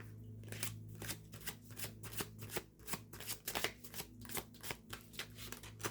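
A deck of tarot cards is shuffled close up, a rapid rhythmic riffle of snapping card edges repeating steadily for several seconds, with no talking over it.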